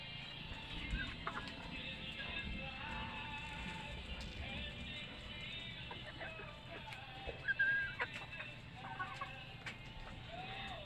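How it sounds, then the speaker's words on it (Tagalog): Native backyard chickens clucking at a mountain home in the Philippines, soft and scattered over a faint outdoor background, with a few brief louder calls near the middle. "Ayan po ang aking mga alagang mga manok. Native po yan."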